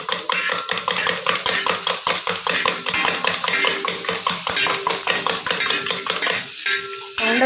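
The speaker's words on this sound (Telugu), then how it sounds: "కారం, ఉప్పు, అల్లం, పచ్చిమిర్చి, 2 ఎగ్స్ మొత్తం కలిపేసుకున్నాం" Two eggs beaten with chili powder, salt, ginger and green chilies for an onion omelette, a steady quick clatter of utensil against bowl running throughout, close and fairly loud, with a brief pause near the end.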